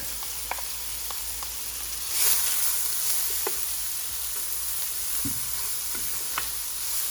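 Garlic and pepper mash frying in oil over medium-high heat, a steady soft sizzle with scattered small pops and ticks, close and without talk.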